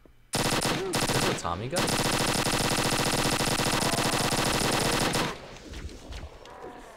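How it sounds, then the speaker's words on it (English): A chain gun firing in the video game Halo Custom Edition, one long loud sustained burst of rapid continuous fire lasting several seconds before cutting off, with someone speaking briefly over it. "it's just a chain gun"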